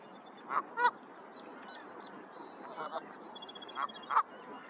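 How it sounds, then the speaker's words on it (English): Savannah sparrow song, a faint, thin buzzy trill heard at a distance, with louder honking goose-like calls and soft background sound over it. "A Savannah Sparrow is singing."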